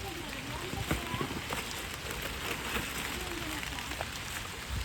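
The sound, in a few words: rain falling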